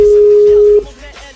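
Telephone line tone while dialing a guest on a live radio show, a loud steady electronic beep held for under a second, then cutting off to faint line noise.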